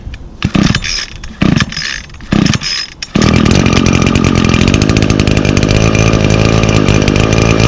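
Echo outdoor power tool with an i30 recoil starter: a few short pull-cord rasps, then the small two-stroke engine catches and runs loud and steady at close range.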